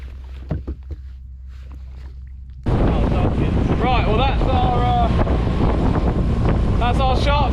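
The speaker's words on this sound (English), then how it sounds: "The wind's finally started picking up now, so we're gonna head in." Wind suddenly rises at sea around a small 3m fishing boat, jumping from a quiet hum to a loud steady buffeting rush against the microphone, with a voice talking under it.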